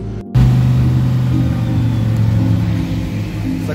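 Porsche cars running at the Spa-Francorchamps circuit on a sunny late afternoon, a loud, continuous engine drone and rumble that holds steady after a brief silent gap at the start.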